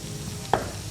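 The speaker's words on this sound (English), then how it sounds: "I have an onion. I'm gonna cut this in half, cut this down" A knife cuts once through an onion in a home kitchen while a wild mushroom pie filling is prepared, giving a single short, close chop against faint background sizzling.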